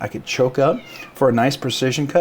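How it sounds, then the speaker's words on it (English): A domestic cat meows repeatedly in the background while someone speaks over it during a knife demonstration, its cries rising between his words. "Sorry if you hear my cat in the background, it's making a lot of noise."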